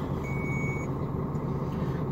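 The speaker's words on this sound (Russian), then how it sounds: "Завел я автомобиль для того, чтобы накачать воздух." Kamaz truck idling after a morning start while it builds up air pressure: a steady, low diesel rumble with a brief high tonal beep early on, fairly close and alone, with no talk.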